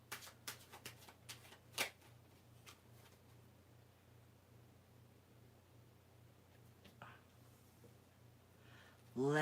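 Tarot cards being shuffled and drawn, a string of quick crisp flicks and riffles close up, then a quieter stretch with scattered soft card slides and taps, ending in a brief louder burst.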